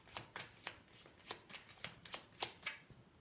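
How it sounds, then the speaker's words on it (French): Tarot cards are gathered and shuffled in a quiet room, a run of about a dozen soft, evenly spaced riffling snaps, close and faint, with nobody speaking. "Allez, on va recouvrir ces cartes."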